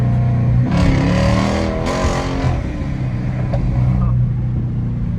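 A Dodge Durango Hellcat engine revs and climbs in pitch through automatic gear shifts on a bridge, loud and close, with a voice speaking over it.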